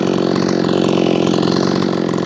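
Repaired, ported Efco 165 chainsaw screaming at high RPM, a loud, steady, buzzing two-stroke whine held close to the microphone without a break.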